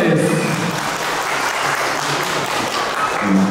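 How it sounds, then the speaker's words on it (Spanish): Audience applauds a man being honoured at his 50th birthday celebration, a dense, steady wash of clapping filling the room from near and far, with faint voices mixed in underneath. "¡Las palmas, señores!"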